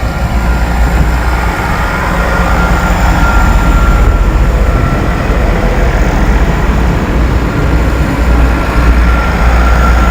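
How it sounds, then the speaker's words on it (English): A passenger train pulls into Birmingham International station on the 14:14 Manchester Piccadilly to Bournemouth service, a loud, steady rumble of wheels and engine that stays heavy and constant throughout with no pauses. "Just now arriving, the 1414, I do apologise, service from Manchester Piccadilly to Bournemouth."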